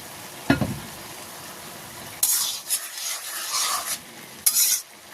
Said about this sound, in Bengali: লাউ থেকে জল বের হয়েছে আস্তে আস্তে ভাজি করে এই জলটা টানাই ফেলতে হবে